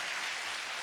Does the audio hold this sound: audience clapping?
yes